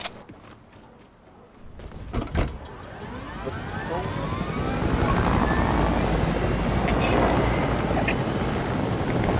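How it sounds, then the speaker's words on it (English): A helicopter in the Fortnite video game gives a steady, loud rotor and engine drone that swells in after a few thumps and holds without a break. "Guys, let's take the chopper."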